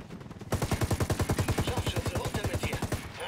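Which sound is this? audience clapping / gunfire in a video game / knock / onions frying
gunfire in a video game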